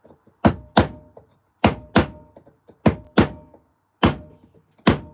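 Sharp, hard knocks of a hammer or mallet striking stone during stone carving ring out at close range in an irregular rhythm, with about eight strong blows and quieter taps between them.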